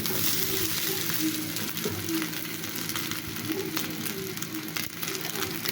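A sesame chapati fries in a hot pan, giving a steady crackling sizzle with small pops throughout, close and fairly loud, with no speech over it.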